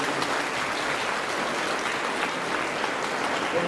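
An audience at a college NEET results felicitation event claps steadily, a dense even wash of applause that holds at constant loudness throughout, with no speech over it.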